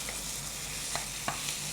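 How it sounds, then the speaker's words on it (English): Steady frying sizzle from a pan of meat sauce as boiling water is added, with a couple of brief clinks or splashes breaking through near the middle and end. "We're going to add the boiling water now"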